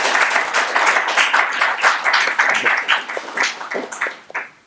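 An audience claps to welcome a guest, artist Mark Alan Stamaty, onstage: a dense, steady round of applause lasting several seconds, then thinning into scattered claps near the end.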